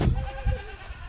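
A goat on a farm gives one wavering, nasal bleat that fills the short moment, close and fairly loud over rough outdoor background noise.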